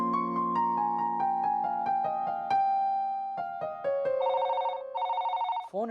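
A telephone rings with a melodic ringtone, playing a descending run of bright electronic notes and then a rapid trilling ring that cuts off abruptly, heard clearly and alone.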